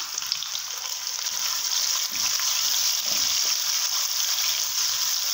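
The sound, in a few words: chopped onion frying in oil with browned garlic and ginger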